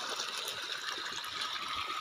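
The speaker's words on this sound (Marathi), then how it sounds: "मोटर चालू झालंय आणि पाणी बघा तेवढं प्रेशरानं पडतंय" Water from a newly started farm pump motor rushes out under pressure in a steady, hissing gush, fairly faint and unbroken throughout.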